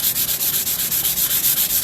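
Rapid back-and-forth hand sanding scrapes at a painted furniture finish in Dixie Belle Sea Spray, a loud, close, rhythmic rasping of about eight strokes per second, no voices.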